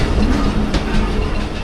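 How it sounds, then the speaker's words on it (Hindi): The 47 Up Rehman Baba Express passer train running through a loop line, a loud close continuous rumble of wheels on rails with rhythmic clatter from the wagons rolling by. "अप साइड की लूप लाइन से 47 अप पास हो"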